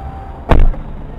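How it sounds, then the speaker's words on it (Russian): A car tire blows out on the road with one sudden loud bang that fades into a brief rumble, then road noise continues. No one speaks over it. "Колесо у него взорвалось."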